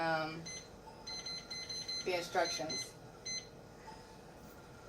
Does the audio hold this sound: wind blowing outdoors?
no